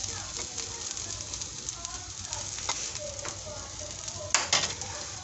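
A pizza cheese club sandwich sizzles on a hot tawa griddle, a continuous crackling hiss with scattered small pops and a brief louder burst near the end.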